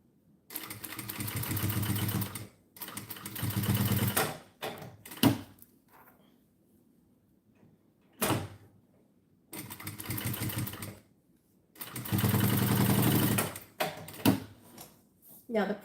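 Sewing machine top stitching an opened seam on a messenger bag, running in several loud close bursts of a few seconds each, separated by pauses and small handling clicks.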